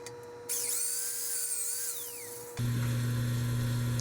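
A shortened, larger drill bit grinding into a frozen axle bolt on a Wheel Horse Model 401, a steady high whine that dips under load, then a sudden harsher, louder buzzing motor tone takes over for the last stretch.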